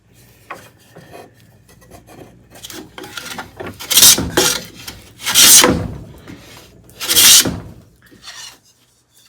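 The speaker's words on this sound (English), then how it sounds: "you would just see me planing and planing and planing" A wooden board is hand planed to flatten it, several long rasping strokes in a row, the three or four loudest ones close and strong, with quieter scraping and handling between them.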